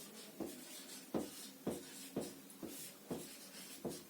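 Chalk or marker writing on a board in a maths class, with a short stroke about every half second that makes a dry scratching rub. It is fairly close, steady, and heard alone without talk.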